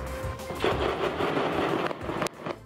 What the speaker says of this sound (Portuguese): 25 bandidos atacaram 2 agências bancárias e trocaram tiros com a polícia.